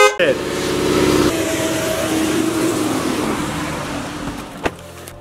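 Exhaust of a 2018 Ford Mustang GT with its mid muffler deleted: a sharp loud burst opens, then a sustained engine roar that fades off with a late pop, while someone talks over part of it.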